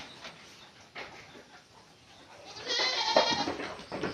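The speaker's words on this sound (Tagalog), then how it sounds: "may naglalaro pang kambing" A goat bleats a few times against faint outdoor background noise at a goat farm entrance, the calls growing louder and closer toward the end.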